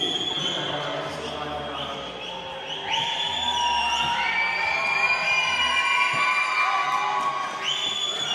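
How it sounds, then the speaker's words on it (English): A crowd at a FIBA 3x3 women's basketball game in Amsterdam yells and cheers, hyped up by an MC, the noise swelling louder midway with whoops and shouts over a busy arena. "the yelling you hear is from the crowd getting hyped up by MC Vin Rock"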